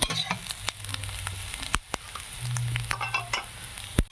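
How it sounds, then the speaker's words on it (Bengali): Onion sizzling in a pan with turmeric and chilli powder, a soft continuous frying hiss broken by scattered stirring clicks and scrapes, close and fairly quiet. "পেঁয়াজ আর হলুদ গুঁড়ো লঙ্কা গুঁড়ো দিয়ে সুন্দর করে লাল লাল করে ভেজে নিয়েছি"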